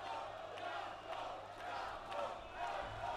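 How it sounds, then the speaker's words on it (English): A boxing crowd at the Spodek Arena chants during the final round of an IBF cruiserweight title fight, rhythmic swelling roars from a large arena audience, fairly distant and steady. "hearing the chants of the crowd"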